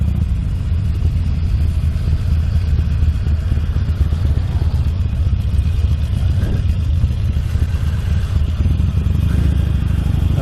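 Motorcycles rumbling at a bike meet in Calne, a dense, loud, continuous low engine drone from many bikes at once with some clatter, and no speech.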